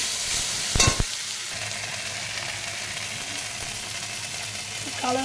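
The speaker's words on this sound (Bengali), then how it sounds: "টমেটো আর কাঁচা লঙ্কার পেস্টটা একটু ভেজে নিচ্ছি" Tomato and green chili paste frying in a pan, a steady sizzle with a loud utensil clatter near the start and a brief faint voice near the end.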